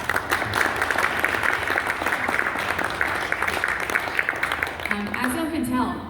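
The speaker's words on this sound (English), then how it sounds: "I want to give a nice big round of applause." An audience gives a big round of applause for a performer at a folk music event, a dense, steady clapping that fills the room, with voices mixed in near the end.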